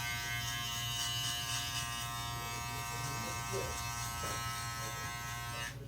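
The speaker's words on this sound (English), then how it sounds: "This trimmer is set hella close." Electric hair trimmer set very close while cutting a low fade, a steady close buzzing hum with a strong tonal whine, its pitch wavering slightly as it moves through hair, under faint talk.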